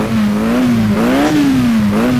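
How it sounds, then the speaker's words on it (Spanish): Racing car engine in the video game rFactor holds a steady high-pitched drone that rises and falls slightly in pitch as revs shift, loud and alone with no talk. "Este es el auto que yo le quiero cambiar el sonido."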